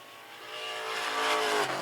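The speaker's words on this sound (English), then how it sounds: "Next car on the track to take time." A race car running on the track during a time trial, its engine note rising loudly as it passes close by in a short burst.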